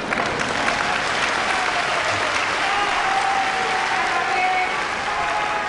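Large arena crowd at the final day of the Kyushu sumo tournament applauds steadily, a dense even roar of clapping filling the hall from a distance with no break.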